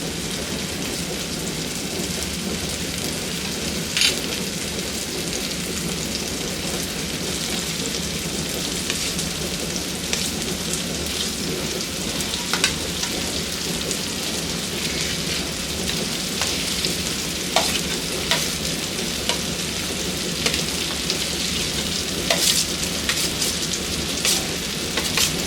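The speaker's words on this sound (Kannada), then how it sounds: "ಈಗ ಇದಕ್ಕೆ ಆಲೂಗಡ್ಡೆ ಹಾಕೊಳ್ಳೋಣ" Mashed boiled potatoes fry in a pan with a dense, even crackling sizzle that runs steadily throughout, dotted with brief sharper pops and scrapes, and no one speaks.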